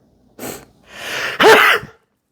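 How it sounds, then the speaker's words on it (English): A single sneeze from an adult, close to the mic, starting with a breathy intake and ending in a sharp, loud burst before silence. "I might sneeze."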